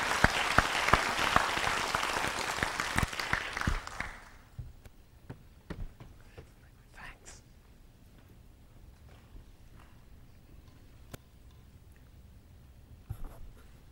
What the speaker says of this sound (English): Let's give a round of warm applause to Steve.